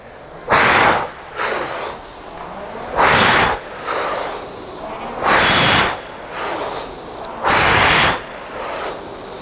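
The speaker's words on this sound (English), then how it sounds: "I'm going to try to breathe really loudly so you can hear that rhythm." Loud, forceful breaths repeat in a steady rhythm while rowing, one breath per stroke, a sharp exhale then a softer inhale, about one cycle every two seconds, close up.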